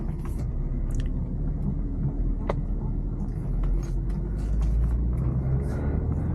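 A stock-exhaust 1998 BMW M3 pulls away and drives, heard from inside as a low, steady engine rumble with road noise, fairly quiet and continuous with small clicks and bumps.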